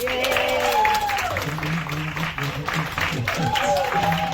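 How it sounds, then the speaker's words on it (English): Applause from a cruise ship audience at a prize giveaway, steady clapping through the stretch while a host talks loudly over it. "by a big round of applause, who's in the mood to win some prizes today?"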